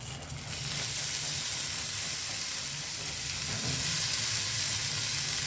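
Horse gram drops into a hot frying pan and sets off a sudden, loud, steady sizzle and hiss that continues unbroken for several seconds.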